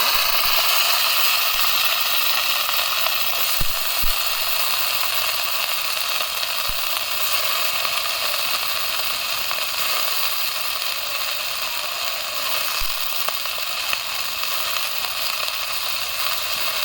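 Cauliflower frying in oil in a wok makes a bright, even sizzle that runs without a break, with a few sharp pops and clicks scattered through it and no talking.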